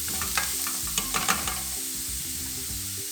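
Chopped leeks stirred and fried in a pan, a constant sizzle with several quick clinks and scrapes of stirring early on, over background music.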